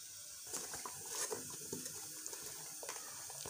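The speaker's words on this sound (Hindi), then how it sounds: "अब इसमें पानी ऐड करेंगे" Water poured from a jug into a bowl of ground gram flour and yogurt for a Punjabi dhaba-style curry, a quiet steady trickling with small splashes and clinks, no talking.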